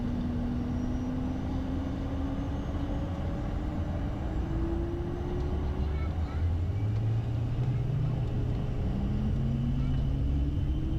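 Airliner jet engines spool up toward takeoff thrust on the runway, a loud constant roar with rising tonal whines heard from inside the cockpit as pilots talk over it.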